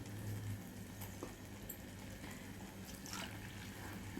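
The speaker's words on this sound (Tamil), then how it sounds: "இப்போது மிக்சியை கொஞ்சம் கழுவி நம்ம அரிசி தண்ணி எடுத்து வச்சோம்" Water sloshes and trickles steadily while a mixer grinder jar is rinsed with leftover rice-washing water in a home kitchen, with light splashes and drips throughout and a faint hum underneath.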